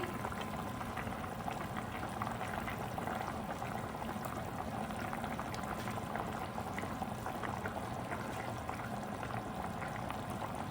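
A pot of Nellore-style fish curry simmers on the stove, giving a steady, dense bubbling and gurgling that runs evenly throughout at moderate level with no talking.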